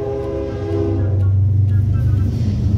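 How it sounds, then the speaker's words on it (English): A passing train rumbles heavily right beside the Walt Disney Hometown Museum in Marceline, Missouri, a loud, continuous low roar close by that swells over a few seconds. "the trains still run right by it multiple times a day"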